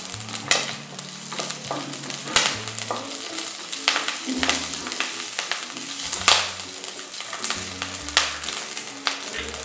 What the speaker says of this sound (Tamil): இப்போ நம்ம கடுகு போட்டுடலாம். போட்டுட்டு பச்சை மிளகாயும் போட்டுருவோம்.